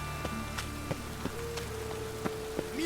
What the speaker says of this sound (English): Running around in this rain?